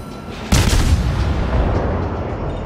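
A warship's gun volley booms once in World of Warships, a loud, sudden blast followed by a rumbling decay over the next two seconds.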